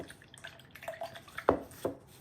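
Water drips and splashes while a glass sourdough starter jar is rinsed at a sink, with soft trickling and two sharper splashes near the end, fairly close and quiet, with no talking.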